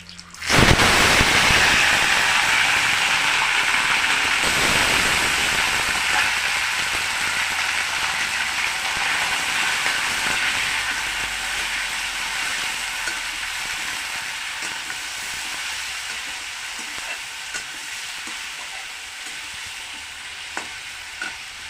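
Shrimp drop into hot oil with bay leaves and garlic, bursting into a loud, steady sizzle that crackles on and slowly fades a little over time, with no talking.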